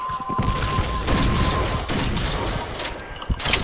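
Rapid bursts of gunfire in the shooter game Point Blank, loud and dense, with overlapping shots and booming impacts continuing throughout.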